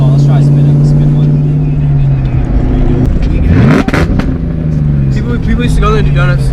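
A Ford Mustang with a newly replaced clutch revs hard while spinning its tires, with a loud, close engine drone that climbs in pitch, then settles back into a steady growl, with people talking over it.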